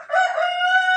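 A rooster on a laying-hen farm lets out a single clear, close crow, a sustained tonal call lasting about a second.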